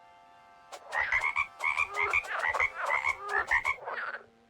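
Frogs croaking in the sandbox game WorldBox: a run of rapid, rhythmic croaks in quick bursts, loud and close, with no talk over them.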